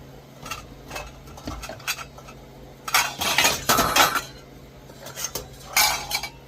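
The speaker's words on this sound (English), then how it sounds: "sorry for all the noise, we're just going to put the lid on." A metal lid being set onto a pot of melting maple sugar, several close clanks and clinks of metal cookware in irregular bursts, the loudest clatter in the middle and another near the end.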